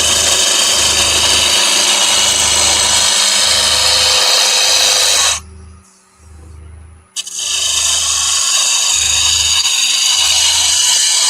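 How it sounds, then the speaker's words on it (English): Wood blank being rounded off on a lathe while tenons are prepared for turned boxes, a loud continuous cutting rasp with a rhythmic low thump from the spinning stock, pausing briefly mid-way before resuming steadily. "I'll get all 3 bits of wood rounded off and tenons put on before I start making the boxes."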